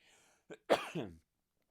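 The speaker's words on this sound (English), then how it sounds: "I started doing a comedy voice that made me cough." A short, close cough in two quick bursts, after a small throat noise, then silence.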